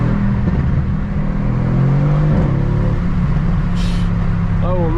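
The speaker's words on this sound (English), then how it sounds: "hear this really nice rumbly V8 like this" A stock Mercedes C63 AMG V8 in Sport Plus mode rumbles loud and close through an open window, its low tone rising and falling slightly as the engine is revved over several seconds.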